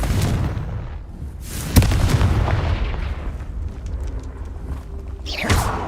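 Heavy booming blasts from the Confringo explosive spell in Hogwarts Legacy, a sharp crack near the two-second mark followed by rumbling low-end explosions and debris, with another burst near the end.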